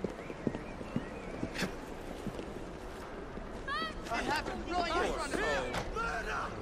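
Horse hooves clip-clop in the Assassin's Creed Syndicate video game, an irregular trotting patter under ambient game noise, with a voice talking over part of it.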